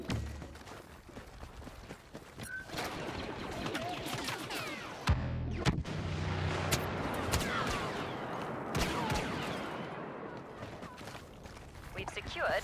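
Rapid blaster fire crackles through a Star Wars Battlefront battle, dense bursts of shots and impacts layered under game voices and effects throughout.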